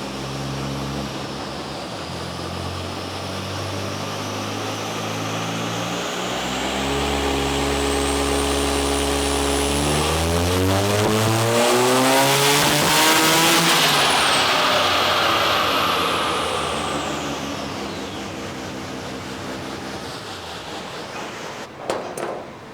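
Mazda RX-7 rotary engine fitted with racing spark plugs revs hard and loud, climbing steadily with rising harmonics to around 7,700 RPM, holding at peak, then dropping away as the throttle closes, with no talk over it.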